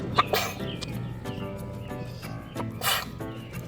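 A single sharp sneeze bursts out near the start, followed by quieter clicks and rustles; a second breathy burst comes later.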